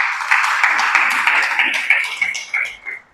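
A church congregation claps in praise to God, a loud, close burst of clapping with distinct rhythmic hand-claps that grow sparser and fade out.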